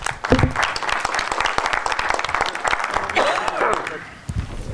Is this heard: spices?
no